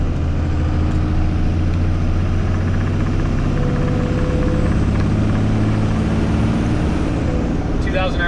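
A car engine drones steadily in fourth gear at about 1400 RPM, a low continuous hum with road noise and a brief click near the end.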